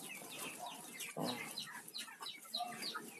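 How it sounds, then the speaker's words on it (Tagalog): Chickens on a rural provincial homestead cluck and chirp faintly in short, scattered calls, with a brief voice exclamation partway through. "Yan, manok din."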